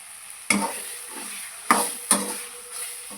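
Scraping strokes of a spoon stirring thick masala in a frying pan, three sharp scrapes over a faint steady sizzle.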